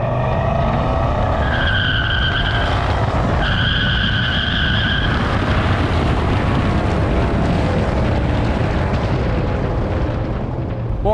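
A Dodge V8 biturbo car with a 3-speed gearbox shifting from first to second at about 100 km/h, a loud, continuous engine roar close by with a brief tonal change during the shift.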